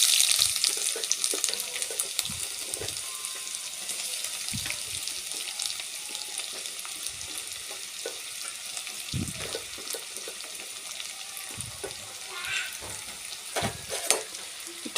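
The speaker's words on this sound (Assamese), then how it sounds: "এতিয়া তেলখিনি গৰম হ'ল, মই ইয়াত পিঁয়াজখিনি দি দিম।" Onions frying in hot oil in a pan for a pork curry, a steady close sizzle with stirring scrapes and small crackles running throughout, no talking.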